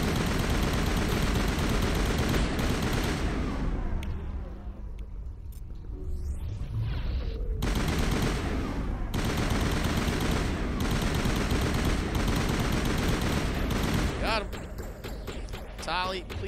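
Assault rifle fire in the Mass Effect video game on PS5, dense sustained bursts of automatic shots with battle rumble running throughout, and a voice talking over the shooting.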